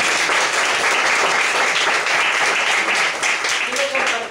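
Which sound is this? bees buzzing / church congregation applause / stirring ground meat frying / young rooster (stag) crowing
church congregation applause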